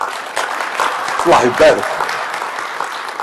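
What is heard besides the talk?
audience applause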